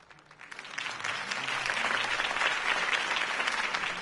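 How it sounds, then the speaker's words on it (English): Crowd applause in a Batman video game on PS4 after a Harvey Dent campaign speech, a dense clapping swell that builds quickly and holds loud and sustained. "If only Mr. Wayne, my campaign's largest backer, could have heard that applause"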